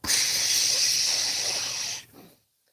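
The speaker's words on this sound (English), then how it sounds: "let's see how long a full bottle of canister stove will burn" A canister backpacking stove burns with a loud, steady roaring hiss close by for about two seconds, then abruptly cuts off and fades to quiet.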